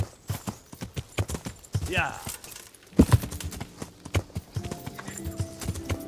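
Horse hooves clip-clop steadily during a ride across open country in the medieval video game Henry's Adventure, with a brief whinny and someone talking over the rhythmic steps.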